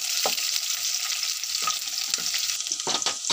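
Green chillies and onions fry in hot oil with a loud, steady sizzle, broken by a few spoon stirs and scrapes against the pan.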